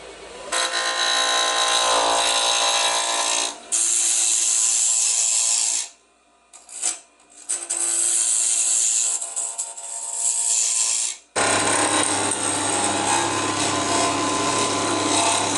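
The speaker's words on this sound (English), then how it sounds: "I'm going to put this on the lathe and turn this down and see how it all turns out." A wood lathe turns down a pen blank decorated with nail art, producing long bursts of loud, close scraping and hissing as the tool cuts, broken by short pauses, with a steady motor hum in the final stretch.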